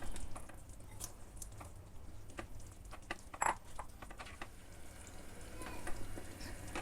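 Cooked vegetables go into a pan of simmering coconut milk vegetable stew, giving soft bubbling and sizzling with scattered light clicks and stirring knocks, faint and close, with no talk.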